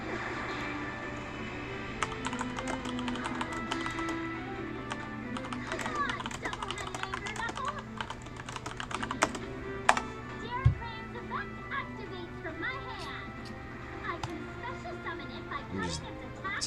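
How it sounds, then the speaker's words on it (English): Rapid, light clicking from a computer keyboard typed on at close range continues throughout, with a person talking over the keystrokes. "typing away here real quick"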